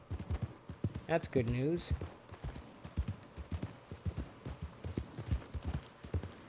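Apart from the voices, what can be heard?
horse hooves in Red Dead Redemption 2 video game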